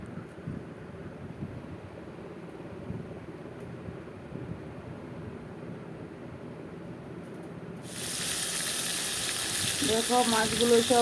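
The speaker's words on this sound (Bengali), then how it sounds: "তেলটা গরম হয়ে গেল চলো এখন মাছগুলো ঢেলে দিই মাছগুলো ভেজে নেই" Fish dropped into hot oil: a faint quiet crackle for several seconds, then a sudden loud, dense sizzle that takes over and keeps rising near the end.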